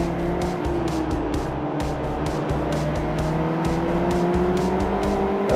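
Race car engine in Forza 3 revving hard and accelerating, a loud continuous whine that climbs in pitch, with tire noise and a pulsing, choppy texture throughout, no voices.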